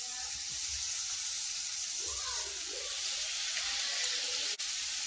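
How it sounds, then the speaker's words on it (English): Steak laid on a hibachi grill for garlic steak and shrimp, with a steady broadband sizzle and hiss, close and continuous, and a faint voice briefly underneath. "let's lay this out here on the steak on this grill"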